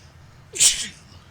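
A single sharp human sneeze, close and fairly loud, with a short breathy intake and a bright hissing burst, set against a quiet background.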